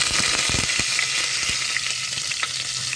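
Asafoetida powder and curry leaves sizzling in hot oil, a loud, dense, close crackling fry with a few sharper pops and stirring scrapes early on, and no voices.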